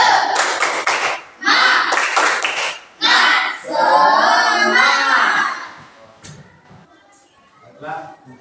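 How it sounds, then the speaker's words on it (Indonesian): A school class does a rhythmic spirit clap together, with loud bursts of group clapping in patterned blocks. The students chant along in unison, and the clapping fades into quieter sounds at the end. "Ya, tepuk semangat dulu kita"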